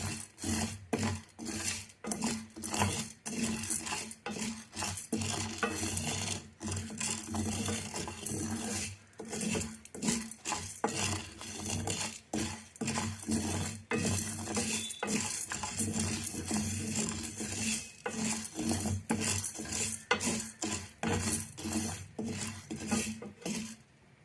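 Dry sago pearls being roasted and stirred in a pan, with steady scraping and rattling of the pearls against metal throughout, close and continuous.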